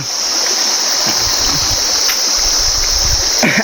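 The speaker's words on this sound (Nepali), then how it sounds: "खोलो बगेको छ सरर आफ्नै गतिमा" A stream rushes steadily and loudly nearby beside rice fields, a continuous watery roar with occasional splashes.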